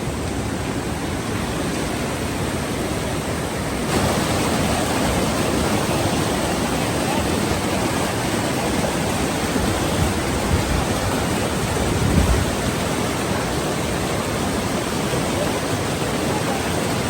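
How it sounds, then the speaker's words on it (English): Waterfall on a remote Alaskan mountainside during a Dall sheep hunt, a steady broadband rush of falling water that holds constant throughout, swelling slightly louder partway in, with no talking over it. "And look at that beautiful waterfall."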